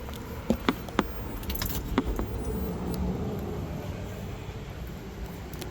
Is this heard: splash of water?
no